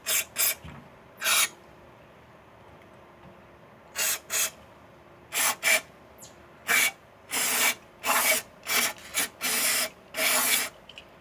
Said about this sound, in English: You gotta spray thoroughly in there